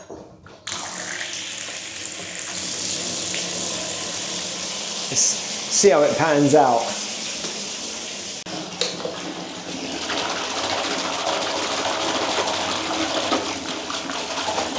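A tap runs into a bathtub at a Whitby holiday rental, a steady rushing pour filling the room, with a brief spoken line over it partway through.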